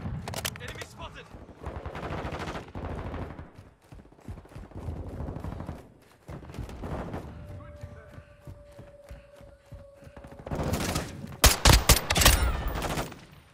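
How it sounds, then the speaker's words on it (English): Automatic and rifle gunfire in the video game Call of Duty: Modern Warfare II, dense overlapping bursts through most of the stretch with a louder cluster of sharp shots near the end, mixed with game effects and voices. "They're shooting at me!"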